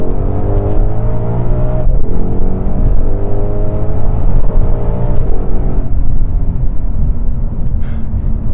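A 2020 Ford Mustang Shelby GT500's supercharged engine pulls hard in sport mode with the exhaust in track mode, a loud, continuous rising roar with gear changes breaking the climb, heard close and alone without talk.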